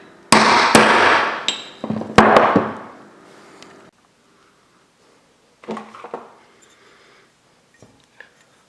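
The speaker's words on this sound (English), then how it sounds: "Get you some sort of a socket and a hammer and" A hammer taps a socket to drive a metal seal into the lower unit gearcase of a vintage Johnson Evinrude OMC outboard: a few sharp, ringing metallic strikes close together, then a pause and several quieter taps.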